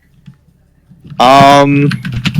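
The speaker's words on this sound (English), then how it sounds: "No, it's just my keyboard's really loud." Loud typing on a computer keyboard heard up close, a burst of rapid clacking after a quieter stretch, with some talking mixed in over it.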